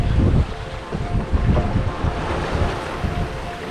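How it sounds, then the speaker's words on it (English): Strong wind buffets the microphone as waves wash and surge against a sailboat's hull off Namibia's Skeleton Coast, a loud, continuous rush with irregular swells and no voices. "Breeze has picked up."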